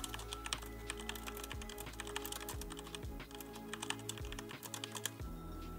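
Rapid, irregular key clicks from someone typing code on a computer keyboard while writing a loop to solve a coding problem, steady and close over a soft low background hum, with no voices.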